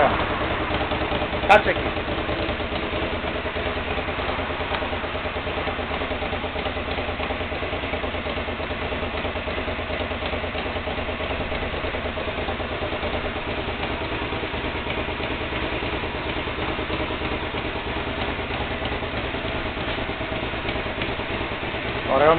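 A Hyosung GV250 motorcycle engine idles in a steady, even drone close by after being started, with a short voice heard early on.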